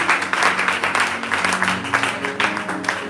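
A church congregation applauding after a Bible reading, a dense burst of many hands clapping that holds steady throughout, fairly close and loud.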